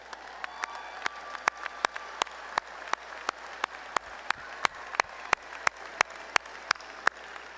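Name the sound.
commencement audience applause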